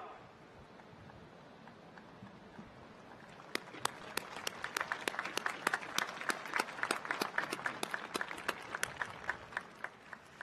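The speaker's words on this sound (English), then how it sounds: "join me in applauding your success" After a few quiet seconds, sharp separate claps break out at a university commencement for business graduates and keep going steadily, sounding like a small number of people clapping close by rather than a large crowd.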